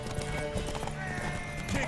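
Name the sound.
horse hooves galloping in video game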